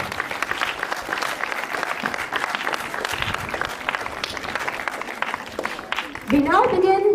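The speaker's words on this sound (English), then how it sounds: "let's have a huge round of applause for all the Bookaholics members" An audience at a school event applauds steadily and loudly, a dense even clapping that carries on throughout, with a voice rising over it near the end.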